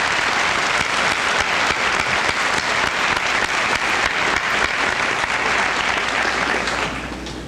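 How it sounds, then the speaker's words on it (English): Students at a high school senior assembly receive a sustained round of applause from the audience, dense, loud and steady clapping that fades slightly at the end. "let's give these students a nice round of applause"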